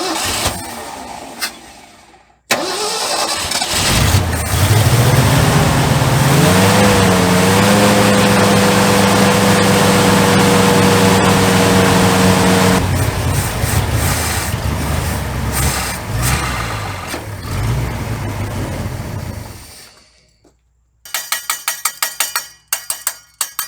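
The engine of a 1972 C30 truck, abandoned on a farm, cranks loudly and steadily for about seventeen seconds with a rising whine from the starter but never catches. Silence follows, then a few short clicks.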